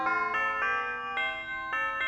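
Cathedral bells at Saint-Hyacinthe play a melodic theme in clear, evenly spaced strikes about twice a second, each note ringing on and overlapping the next.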